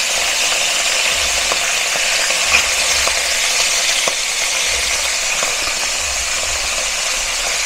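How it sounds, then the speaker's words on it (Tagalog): Chicken pieces sizzle steadily in a pan over medium heat, a dense, constant frying hiss with occasional faint pops and clicks throughout, loud and close, with no talking. "Ipreto muna po natin yung ating"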